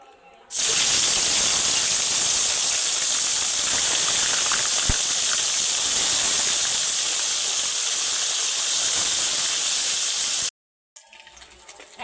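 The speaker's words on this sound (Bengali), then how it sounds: "এবার মাছগুলো ভেজে নেব" Pomfret fish from Digha frying in hot oil, a steady loud broadband sizzle and hiss that runs unbroken for about ten seconds before cutting off abruptly, with a faint quieter tail afterward.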